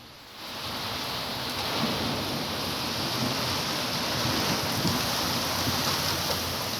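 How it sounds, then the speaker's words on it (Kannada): Heavy rain pours steadily during a storm with strong wind in Chikkamagaluru, a dense continuous roar that builds up in the first half second and then holds loud and unbroken, with no voices. "ಮಳೆ ಜೋರಾಗಿದೆ, ಗಾಳಿ ಸಮಸ್ಯೆ ಆಗ್ತಾ ಇದೆ"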